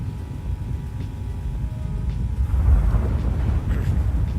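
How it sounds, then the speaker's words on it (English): Deep rumbling of thunder from a video game storm rolls steadily, swelling louder midway and staying heavy and low throughout. "Why does this thunder sound so much louder than normal?"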